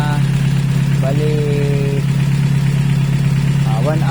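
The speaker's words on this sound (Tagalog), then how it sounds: "pakinggan niyo yung andar niya, bagong overhaul" A freshly overhauled engine idles with a loud, steady, continuous hum close by, and a voice speaks briefly over the running motor.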